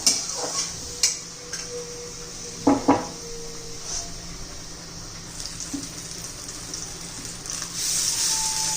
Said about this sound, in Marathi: त्याच्यावर आता तवा ठेवूया आपण आळू चवड्या गरम करणार आहोत